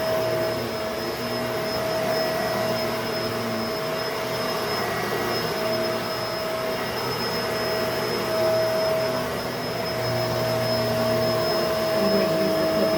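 A Bissell MultiClean Allergen Lift-Off Pet vacuum cleaner runs steadily and loudly the whole time, its motor a constant whine with a high steady tone over a broad airy roar, alone with no talk.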